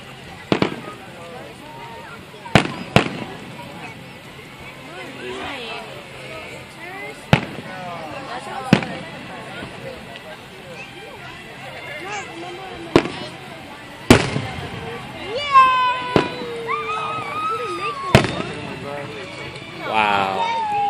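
Fourth of July fireworks burst in sharp, scattered bangs at irregular intervals, with crackling trails between them and a crowd murmuring and talking throughout.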